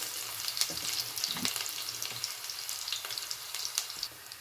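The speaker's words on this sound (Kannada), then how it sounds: "ಈಗ ಈರುಳ್ಳಿನ ಒಗ್ಗರಣೆಗೆ ಹಾಕೋಣ" Chopped onions sizzle steadily in about five spoons of hot oil as the tempering for a fish curry, with occasional spoon-stirring clatters over the continuous close frying hiss and no voices.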